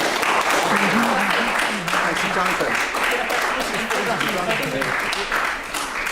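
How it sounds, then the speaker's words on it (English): Audience applause at a traditional music workshop, a steady wash of clapping running the whole time, with a voice speaking briefly over it. "Well, a big applause."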